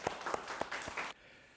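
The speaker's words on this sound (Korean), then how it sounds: "박수 주십시오." A small audience at a Korean talk-show style event gives a brief burst of clapping, a short run of sharp, fairly faint claps that stops after about a second.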